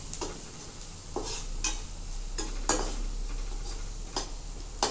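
A spoon scrapes and taps around a pan as a poha mixture seasoned with rock salt is stirred, making intermittent clinks and scrapes over a faint steady hum, with no talking.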